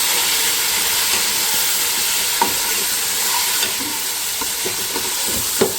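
Beef pieces frying in a pot with garlic ginger paste, a steady close sizzle and hiss running throughout with a few soft stirring clicks and scrapes, no voices.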